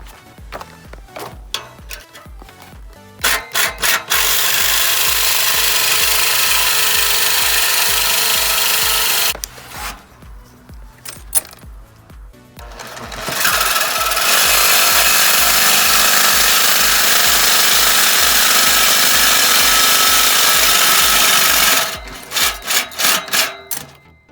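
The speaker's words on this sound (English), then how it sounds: "use the saw and finish it up real quick" A power saw cuts through pipe in two long, loud, steady bursts of harsh buzzing, one near the start and a longer one later, with short rattling stops and quieter clatter between.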